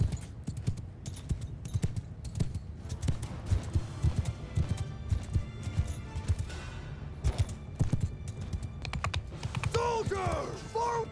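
Horse archers' hooves pound in a Mount & Blade II Bannerlord battle, a busy clattering clip-clop of many mounts at moderate distance, mixed with thuds and battle noise, with a whinny-like cry near the end.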